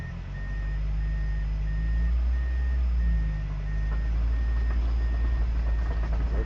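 A car reversing slowly in reverse gear during parking practice gives off a steady series of evenly spaced beeps over a low, constant engine hum.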